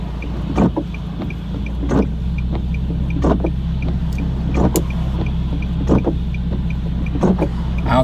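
Nissan 370Z with its muffler deleted, a steady loud exhaust drone with several sharp pops and crackles scattered through it, recorded close by with no one speaking.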